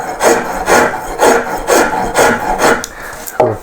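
A rasp files a wooden Hepworth-style sculpture in loud, rhythmic rubbing strokes, about six even scrapes with short pauses between them, close to the microphone.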